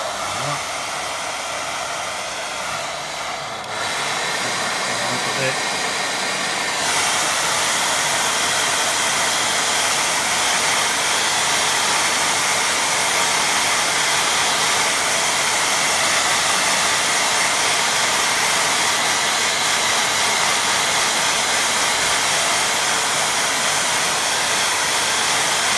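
A hair dryer blows steadily on a watercolour painting during glazing, a loud continuous whooshing roar that runs uninterrupted for the whole stretch, briefly dipping near the start before settling.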